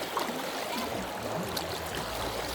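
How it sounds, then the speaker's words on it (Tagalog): Mountain river water running at a campsite in Daraitan, a steady, full rush with gurgles, close and continuous with no voices. "Ilog. Running water. Galing bundok yung tubig."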